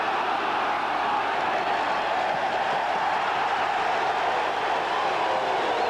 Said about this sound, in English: the crowd's in eruption here